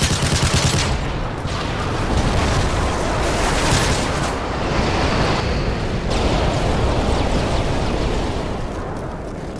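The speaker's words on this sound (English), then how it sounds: "Friendly Predator missile inbound." Call of Duty: Modern Warfare 3 multiplayer battle noise under a Predator missile strike: a sustained, loud roar of blasts and rumbling fire filling the whole stretch, with no speech.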